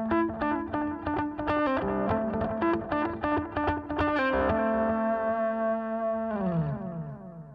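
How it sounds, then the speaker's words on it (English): Electric guitar lead through a BOSS ME-80 with light overdrive, compression and delay, a quick run of picked notes ending in a sustained ringing note, no voices. "It's a light overdrive with some compression and delay."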